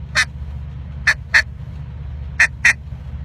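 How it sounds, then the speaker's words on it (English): A hand-blown duck call sounds five sharp, aggressive clucks in an uneven rhythm, a single cluck, then two quick pairs, close and loud over a low background hum. "start him off with a real aggressive cluck"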